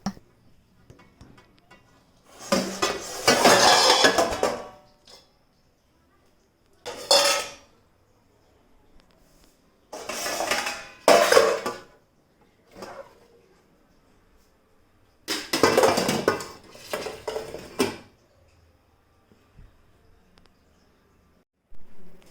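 Dishes and utensils being washed in a home kitchen: bursts of clattering plates, pots and cutlery clinking under running water come in several separate spells, with quiet pauses between them.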